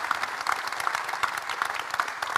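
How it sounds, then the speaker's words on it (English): An audience at an evening speaker series event claps steadily in thanks to the speakers, a continuous, moderately loud patter of applause throughout. "please, another big round of applause to say thank you so much"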